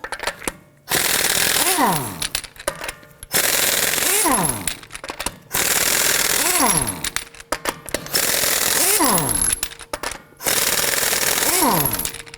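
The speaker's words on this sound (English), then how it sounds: "Using our 21mm socket, we're going to loosen and remove the lug nuts" An impact wrench loosens and removes lug nuts with a 21mm socket on a 2018-2024 Toyota Camry front wheel, giving loud, close rattling bursts repeated about five times with brief pauses and falling whines.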